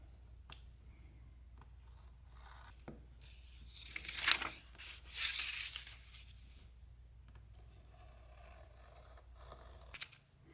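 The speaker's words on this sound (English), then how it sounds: "You're going to cut the patterns out, but just outside of the line." Scissors snip through paper while cutting out patterns for a leather case, a few sparse crisp snips and soft rustling of paper, close and quiet.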